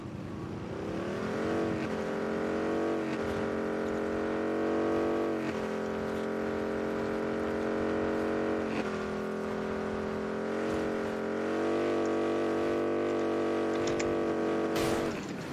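Motorcycle engine in a video game, a steady, loud droning whine whose pitch rises and shifts through gear changes and revving, running continuously throughout.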